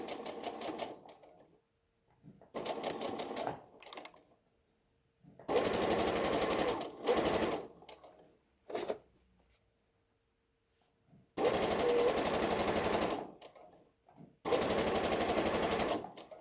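A sewing machine stitches lace onto a dress hem in several loud bursts of rapid running, broken by short quiet pauses, with no talking.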